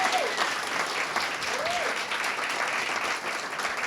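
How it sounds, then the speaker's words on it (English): An indoor audience claps for special guests visiting from a hospital, a dense, even wash of applause holding loud and steady throughout, with a brief voice rising faintly above it. "Let's give them a round of applause, our special guests."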